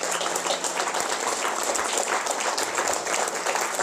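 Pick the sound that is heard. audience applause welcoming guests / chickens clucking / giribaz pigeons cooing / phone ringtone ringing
audience applause welcoming guests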